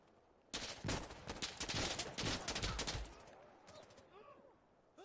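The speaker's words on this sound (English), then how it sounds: "my brain hears like the gunshots" Rapid gunfire in the Insurgency war shooter, a dense burst of many loud, overlapping shots lasting a few seconds, then trailing off into scattered quieter sounds.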